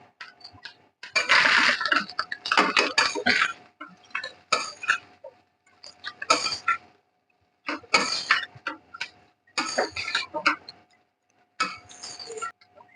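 Metal spoon scraping and clinking against a pan while tossing egg gobi fried rice with garam masala and spices, in irregular bursts of stirring separated by brief pauses.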